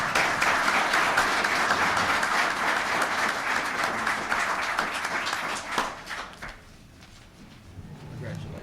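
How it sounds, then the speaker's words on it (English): Audience applause, a loud burst of many hands clapping that thins out and fades after several seconds. "we owe them a round of applause"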